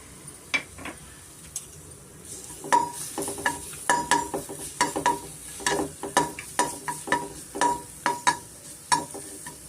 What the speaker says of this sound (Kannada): ನಾನು ಶುಂಠಿ ಮತ್ತು ಬೆಳ್ಳುಳ್ಳಿ ಸೇರಿಸ್ತಾ ಇದ್ದೀನಿ